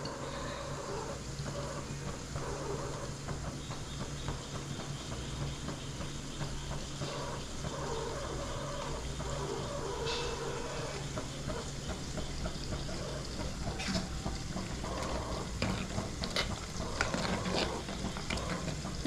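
Garlic medicinal kuzhambu curry boils in a pot with a steady, dense bubbling and simmering hiss that stays close and even for the whole stretch, with no voices.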